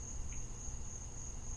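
Crickets chirp in a steady, thin, high-pitched trill that runs continuously at a faint, distant level beneath a low background rumble, with no voices.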